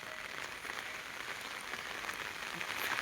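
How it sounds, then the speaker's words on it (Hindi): Steady rain falls on a surface at a rural place where buffalo are kept, a constant soft hiss with faint scattered drops and no voices. "और बारिश चालू हो गई"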